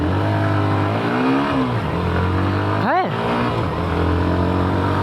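A Hero Xtreme 125R motorcycle engine set to eco mode holds a steady drone, then gives one quick rev that rises and falls around the three-second mark, with no talking.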